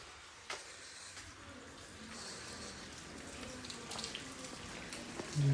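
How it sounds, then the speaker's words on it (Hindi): Water dripping down a stairwell from the stairs above at night, scattered faint drips and trickling over quiet background noise, with a few louder splashes near the end. "ये तो ऊपर से भी टपक रही हैं सीढ़ियाँ"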